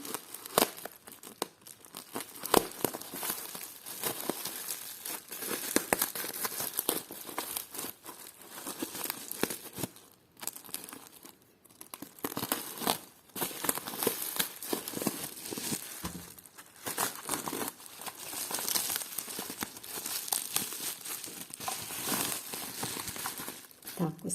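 A parcel of vintage jewelry wrapped in plastic film and tape is torn open, with continuous close crinkling, crackling and ripping bursts over about twenty seconds, the rustle dipping briefly a few times.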